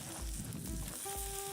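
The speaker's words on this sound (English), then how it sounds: "That nice sizzle." Quiet, steady sizzling of food frying in a pan, a soft continuous crackle with faint low thumps underneath.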